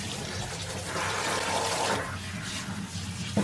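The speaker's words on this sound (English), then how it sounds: "her entire coat is saturated with water before we start the shampooing process" Water runs steadily from a sprayer over a Shih Tzu puppy's coat during a grooming bath, a continuous close hiss with small shifts in flow.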